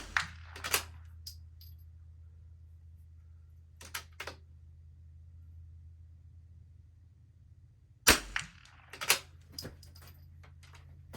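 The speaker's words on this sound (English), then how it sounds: "we're going to work the entire KYL rack, large to small, and then we're going to take 1 shot at the far target" Rifle shots ring out on an NRL22 course, striking a steel KYL rack and a far target: several sharp, close cracks in separate bursts with long quiet gaps between them over a low steady hum, and no talking.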